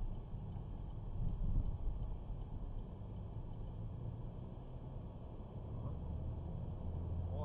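A car drives on a city road in pursuit of another vehicle, a steady engine drone and road rumble running throughout with little change in level.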